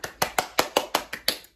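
Nine sharp, close hand claps in a quick, even rhythm, crisp and dry with no talking.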